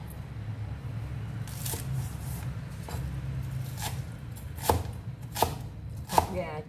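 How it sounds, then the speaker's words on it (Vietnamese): A knife chops shallots on a board in a home kitchen, for frying eggs. Sparse, crisp, close chops come at uneven intervals, growing louder toward the end, over a low background hum. "Giờ để mình sắc hành."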